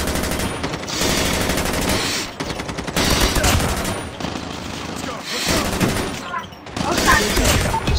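Rapid automatic gunfire in Call of Duty Mobile multiplayer on Android, loud dense bursts of shots with short pauses between volleys, close and continuous across the clip.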